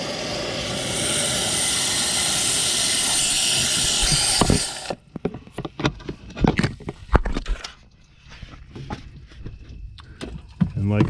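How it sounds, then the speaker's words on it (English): Garden hose spraying water to rinse out a unit, a loud steady hiss for several seconds that cuts off abruptly, followed by scattered clanks and handling noises. "You can literally take the garden hose and spray it in there to rinse it out."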